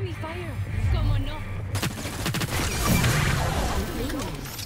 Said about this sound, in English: Oh yeah, enemy fire.